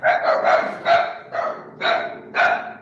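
Dogs barking in a series of six loud, close barks at an even rhythm, with no talk over them.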